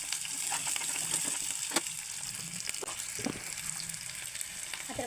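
Onions frying in hot oil in a pan for chicken liver fry, a steady crackling sizzle with scattered pops throughout, moderately loud and close, no voices.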